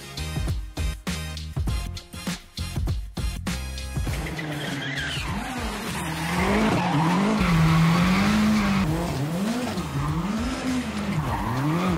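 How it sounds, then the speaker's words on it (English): Ken Block's race car drifting, engine revving in wavering pitch with loud tire squeal and skidding, preceded by a few seconds of rhythmic music-like beats before the sustained screeching engine takes over. "Here's American race car driver Ken Block drifting."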